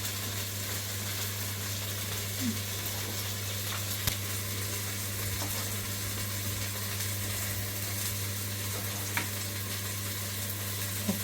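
Chicken pieces fry in a hot pan for kabsa biryani, giving a steady, even sizzle throughout with a few faint clicks and taps, close and continuous with no talking.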